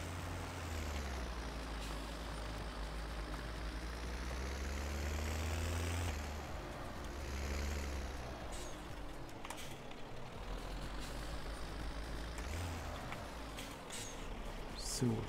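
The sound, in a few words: truck or tractor driving in Landwirtschafts-Simulator 17 video game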